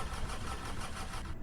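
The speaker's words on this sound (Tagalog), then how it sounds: "atin i-open yung ating engine" A car engine turns over and catches, holding a steady, close mechanical rumble through the short stretch before it dips at the very end; no voices.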